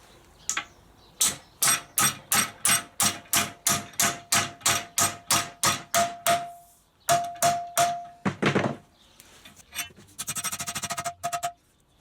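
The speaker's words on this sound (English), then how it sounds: "grab a hammer, and we'll start bending" Metal bar bent in a large bench vise with hammer blows: a steady run of about fifteen loud, ringing strikes, a short pause, then a few more heavy hits and a closing flurry of rapid lighter taps.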